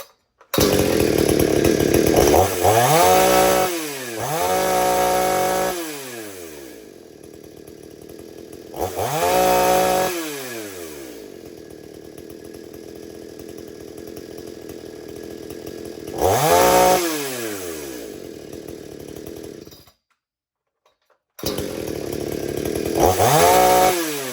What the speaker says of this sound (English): But that's how your saw is going to run.